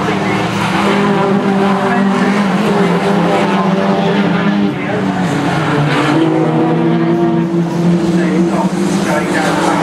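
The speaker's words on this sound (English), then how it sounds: "Side by side there, then it's another 67 car of Peter Dixon in the middle of the Civic" Race cars including a Honda Civic roar past on a circuit at a 2011 NSSCC round, with loud continuous engine drone and shifting pitch, a commentator talking over the din.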